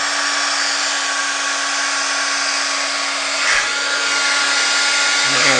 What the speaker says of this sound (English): So let me get that heat tool going.